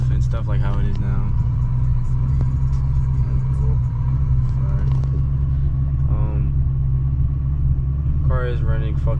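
A car idling rough after a 78mm BBK throttle body install, a loud steady low engine rumble running throughout with someone talking over it.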